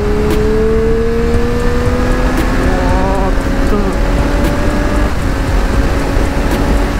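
A Triumph Street Triple RS motorcycle accelerating on a straight road, engine note rising steadily under strong wind rush, close and loud throughout.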